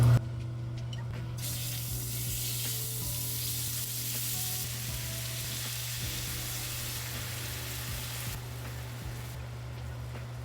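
Steak bites sizzle loudly in a hot pan with a drizzle of coconut aminos, a steady dense frying hiss that carries on without pause for the whole stretch, close and even.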